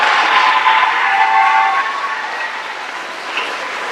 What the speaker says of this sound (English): So applause for all those people.